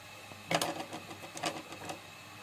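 A sewing machine stitches burqa fabric in a few short bursts of rapid mechanical clatter separated by quieter pauses, close and fairly faint, with no talking.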